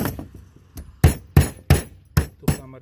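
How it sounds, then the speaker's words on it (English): A small hammer taps pins into an automatic window opener during assembly, five sharp, evenly spaced knocks ringing out close and loud after some softer handling noises. "you can either use a little hammer"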